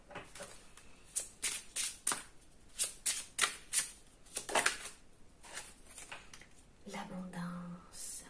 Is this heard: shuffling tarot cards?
yes